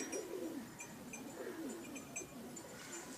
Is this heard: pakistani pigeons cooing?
yes